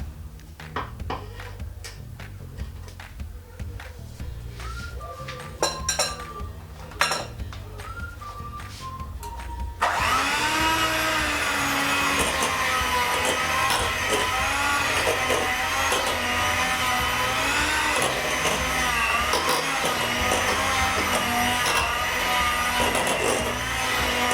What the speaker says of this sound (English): I can now bring in my mixer. You can mix this very well with your mixer.